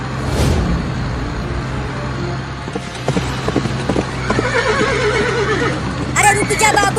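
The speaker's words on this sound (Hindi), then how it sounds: "बाबू का घोड़ा तो पहले ही रेस में आगे हो गया" A cartoon horse neighs and gallops with clip-clop hooves during a race, loud and busy over a steady background hum, with voices talking over parts of it.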